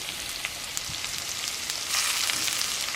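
Garlic paste and spices fry in hot oil for a fish malaikari, a steady close sizzle that crackles and spits throughout, with no talking.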